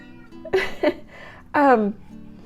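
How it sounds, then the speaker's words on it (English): A couple of short, close meows sound from a cat, the second longer and drawn out with a falling pitch, over a quiet background. "But whenever I start to talk, Freckles meows."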